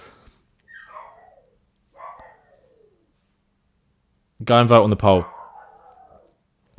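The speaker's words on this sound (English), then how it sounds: "Sorry if you can hear my dog." A pet dog barks and whimpers indoors in a few short bursts, with one loud bark sequence near the middle, while someone speaks over a quiet background.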